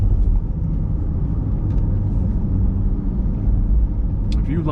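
Low, steady rumble of the mid-mounted 6.2-litre V8 in a 2021 Chevy Corvette C8 Stingray, heard from inside the cabin, with faint voices in the background.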